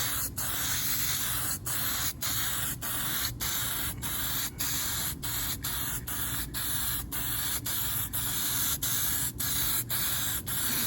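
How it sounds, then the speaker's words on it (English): A tire rim is spray painted silver with an aerosol can, giving a close, continuous hiss broken by quick rhythmic dips as the nozzle is pulsed. "I got the rim painted up a nice silver color"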